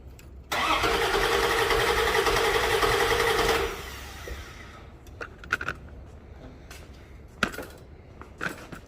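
An engine with an intermittent stalling fault cranks for about three seconds after fuel is added, a loud, steady starter churn that fails to catch, followed by quiet with scattered clicks and knocks.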